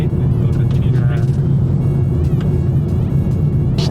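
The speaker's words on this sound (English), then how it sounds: "You can hear some exhaust." Exhaust of a 2021 BMW 330i M-Sport G20 with a B48 engine, a steady loud low rumble while cruising in a lane, with people talking over it.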